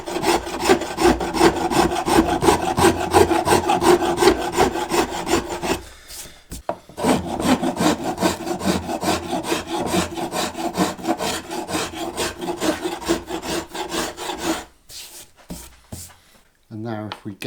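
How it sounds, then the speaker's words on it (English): A curved carving file rasps across a wooden Stratocaster guitar neck in steady, rhythmic back-and-forth strokes, close and loud, with two brief pauses. "So again, this time a curved carving file."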